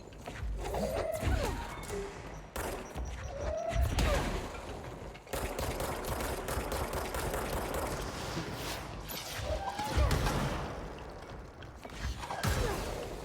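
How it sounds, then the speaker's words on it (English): A grenade goes off in the video game Control amid dense combat audio, with heavy blasts, thuds and whooshes layered over continuous gunfire and mechanical noise. "grenade!"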